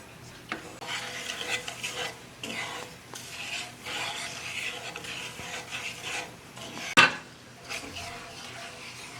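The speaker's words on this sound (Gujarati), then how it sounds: "આ ચાસણીને સતત હલાવતા રહેવાની છે" Sugar syrup for Mandvi Paak is stirred over medium heat in a pan, making a repeated rasping scrape of a spoon against the pan's base, with one sharp clank near the end.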